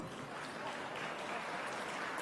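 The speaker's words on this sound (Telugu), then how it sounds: "క్లాప్స్ కొట్టండి అమ్మా" Faint, steady clapping from an audience at a national conference in Tirupati, a soft continuous patter heard from a distance.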